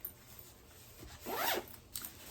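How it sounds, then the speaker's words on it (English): A zipper on a bag with rose gold hardware is drawn open in one quick rising sweep, followed by a short second tug. It is close and clear, with no voices. "And it has a front zip, so really nice for charging cords or pens."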